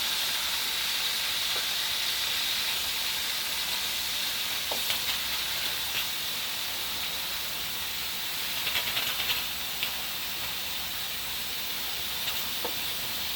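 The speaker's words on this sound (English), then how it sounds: "Moving my onions around, spreading them, separating them." Onions for okra stew fry and are pushed around a pan, a loud, steady sizzling hiss broken by occasional light scrapes of the spatula, with no voices.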